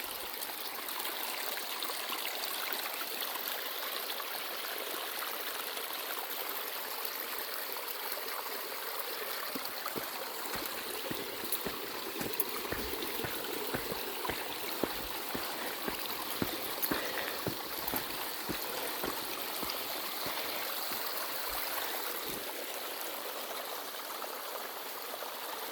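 A river runs past older Douglas fir trees in a forest, its steady rushing flow close and continuous, with faint scattered clicks and taps over the water noise and no talking.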